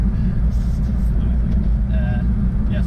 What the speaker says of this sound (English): It's a very loud car